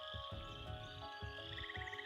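Frog sound effect in a tabletop fantasy adventure game, a series of low croaks at uneven intervals over a steady ambient bed, fairly faint.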